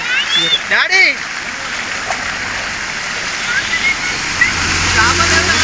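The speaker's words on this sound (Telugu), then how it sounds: "మరీ టూ మచ్ పోతున్నాయి అంటే టూ మచ్ వాటర్ వస్తున్నాయి ఇక్కడ" Floodwater rushes from a breached pond embankment after nonstop heavy rain in a flooded village, a loud continuous roar close by, with speech over the start of it.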